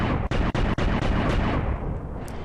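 Heavy weapon fire from a robot mech in the VR game Armored Ops, a loud, dense roar with three sharp gaps early on, sustained and booming like rapid artillery before easing slightly near the end.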